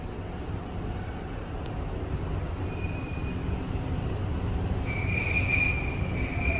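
Inclined elevator at the Huntington WMATA Metro station in Virginia running steadily, a continuous low mechanical rumble with a thin metallic whine that grows louder and brighter toward the end.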